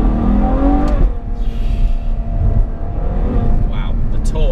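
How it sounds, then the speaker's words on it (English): A Ferrari 812 Superfast's V12 engine hums steadily under acceleration from inside the car, a loud low drone under someone talking. "didn't have to drive like a maniac to unlock that sensational sound that you get out of this V12 engine"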